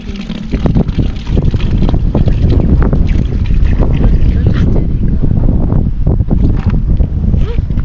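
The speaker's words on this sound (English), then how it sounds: "It's too windy." Strong wind buffets the microphone throughout, a loud, continuous rumbling roar with gusty surges.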